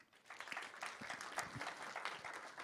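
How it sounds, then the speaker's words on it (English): Audience members at a hackathon final event applaud a 2,500-euro prize fund announcement, scattered clapping heard faintly from a distance with an irregular rhythm. "Applause for that."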